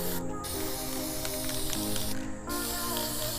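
Steady close hiss of spray paint being applied to a 1999 Suzuki DR 350 motorcycle gas tank, continuous with brief dips as the nozzle is released.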